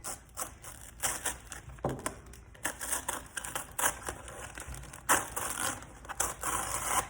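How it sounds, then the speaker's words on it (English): Vinyl stencil being peeled off a painted hockey jersey, a continuous crackling, tearing rasp with sharper rips, close and fairly loud with no talking. "we're gonna peel this vinyl right off and we get to see our first color that we painted on there"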